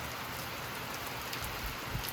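Steady rain on a July day in Texas, falling in a dense, even hiss of drops across a nearby surface, continuous throughout with no voices.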